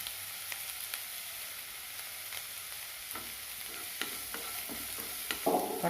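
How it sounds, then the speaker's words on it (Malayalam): Onions and green chillies sauté in oil for an egg curry, a soft continuous sizzle with occasional stirring scrapes and a brief louder burst at the end, no talk. "ഇതൊന്ന് നല്ലപോലെ ഒന്ന് വഴറ്റിയെടുക്കട്ടെ"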